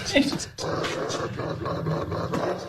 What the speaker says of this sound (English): Would you put your head that close to a dog making those noises?